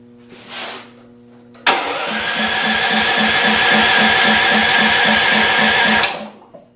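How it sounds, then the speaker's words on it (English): A go-kart engine cranks on a test fire with a fast, rhythmic starter chug lasting about four seconds, loud and close, then stops without catching. "Do you think the engine will crank? This will be the ultimate test. Test fire."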